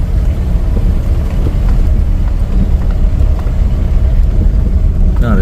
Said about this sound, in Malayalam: വണ്ടിയൊക്കെ വരുന്നുണ്ട്